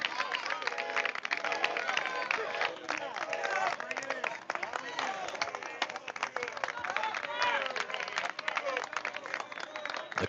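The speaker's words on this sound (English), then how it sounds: "The crowd getting into this game." A partisan baseball crowd at a summer league game between the Alexandria Aces and Bethesda Big Train makes a steady, distant roar of cheering, clapping and chatter, continuous and unbroken throughout.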